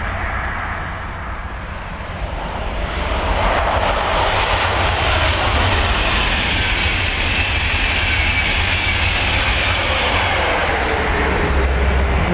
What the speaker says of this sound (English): And that's another electric going to King's Cross.